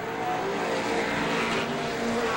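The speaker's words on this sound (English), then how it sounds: "Jeff Crowley trying to go on the outside of Fiandaca and come up and race with him" Pro stock race cars at Star Speedway in 1993, a continuous loud engine roar from the pack at steady intensity with a faint high squeal over it.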